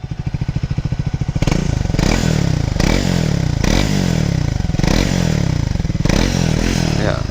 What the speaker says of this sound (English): I didn't like the exhaust note.